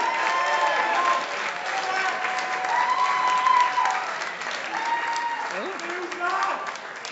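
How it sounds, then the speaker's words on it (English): An audience at a students' union election results night applauds a candidate named Owen after his elimination, a dense, steady roar of clapping throughout with cheering voices mixed in. "Round of applause for Owen."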